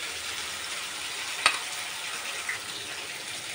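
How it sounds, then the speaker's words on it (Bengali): A paste of chilli, garlic, ginger and onion sizzles in a hot pan with a steady broad hiss, a single sharp pop or clink midway and a smaller one after. "এখন আমি একটু জল দিয়ে মশলাটাকে ভালো করে কষিয়ে নেব।"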